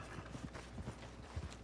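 Horse hooves clip-clop in the Red Dead Redemption 2 online game, a faint rhythmic series of soft thuds as the horse trots, with no talking.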